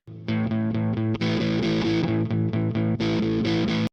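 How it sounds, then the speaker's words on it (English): An electric guitar through a distortion pedal plays chunky, sustained chords in a steady rhythm, loud and saturated, with a brief pause near the start. "your pedal will be the source of the distortion"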